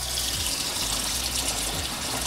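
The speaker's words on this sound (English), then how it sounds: "First thing I want to do is add some water inside" Water pours into a collapsible foot spa massager basin, a steady, moderately close splashing rush that runs continuously with no talk.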